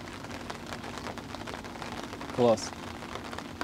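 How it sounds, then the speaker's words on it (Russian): Warm summer rain falls steadily in a forest beside a river, a soft continuous hiss through the whole stretch, with a voice briefly speaking near the middle. "идет дождик"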